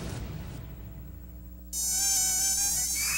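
A dengue-carrying mosquito buzzes in a thin, high whine that drops away briefly and then returns louder and closer, holding steady to the end with no voices.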